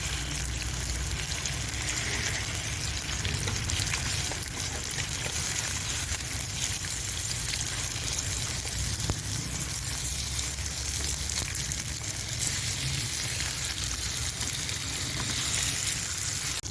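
Pieces of fish fry in hot oil with a loud, continuous crackling sizzle that stays even and close throughout, with no voices.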